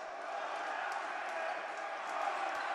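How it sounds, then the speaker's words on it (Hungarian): Basketball arena crowd noise at a Hungarian league game, a faint, steady murmur and hum of spectators throughout, with a couple of light knocks. "Megjön a közönség hangja is."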